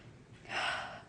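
One deep breath drawn in, close and airy, swelling halfway through and then fading, during a guided forgiveness meditation.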